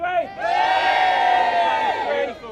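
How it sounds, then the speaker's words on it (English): Wedding guests give a big, loud, sustained group cheer and whoop outdoors that rises quickly, holds for a couple of seconds, then tails off. "A nice big cheer, hands in the air."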